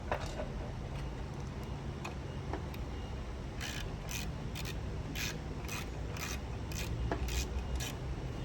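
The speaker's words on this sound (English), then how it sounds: "Then you can kind of hand tighten these down a fair amount so that you have to do less back and forth with the Allen." An Allen key working the bolts of an LP4 light bracket on an INEOS vehicle, heard as close, faint metallic clicks and scrapes that speed up into a quick run of ratcheting ticks in the second half.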